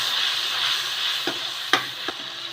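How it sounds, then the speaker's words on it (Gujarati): A spoon stirs salt, coriander and cumin in a hot frying pan. The spices sizzle steadily, and a few sharp scrapes and taps of the spoon on the pan are heard over the frying. "આની અંદર મીઠું ધાણા જીરું અને તે દઉં આ બધું નાખી અને થોડીક વાર હલાવશું"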